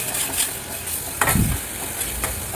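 Mushroom gravy masala being sautéed in oil in a pan, a soft continuous sizzle with occasional stirring scrapes and a brief louder clatter midway.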